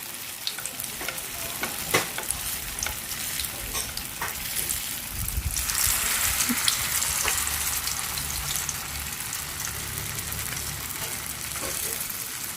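Steady oil sizzling and crackling from tofu skin frying in a pan, continuous and close, swelling briefly louder midway with occasional light clinks.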